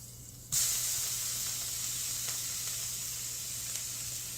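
A sudden loud hiss bursts out as a piece of salmon is flipped in a hot pan, then settles into a steady, close sizzle that carries on evenly under a faint low hum.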